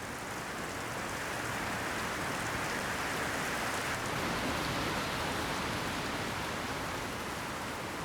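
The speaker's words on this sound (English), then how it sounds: "Long cords of water appear to connect ground and sky. The locals call it stick rain." Heavy rain, the kind locals call stick rain, falling in long cords of water in a Japanese region with record downpours; a dense, constant roar of rainfall with no gaps or voices.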